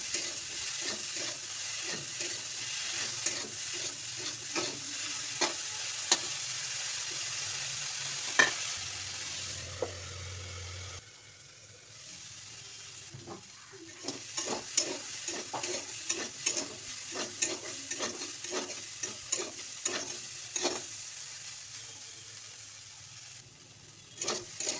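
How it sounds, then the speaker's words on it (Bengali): Cauliflower, potato and other vegetables frying with turmeric and salt in a pan, a steady sizzle broken by repeated spatula scrapes and knocks, briefly quieter around eleven seconds before busy stirring resumes. "একটু হলুদ আর হচ্ছে একটু লবণ দিয়ে এগুলো আমি সুন্দরভাবে ভেজে নেব"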